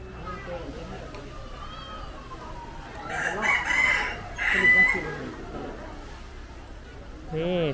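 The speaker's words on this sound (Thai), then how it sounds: "ข้างล่างคือไก่นี่เรา" Chickens at a zoo during a daytime visit, with a rooster crowing and birds clucking in short bursts amid steady background crowd chatter and nearby voices.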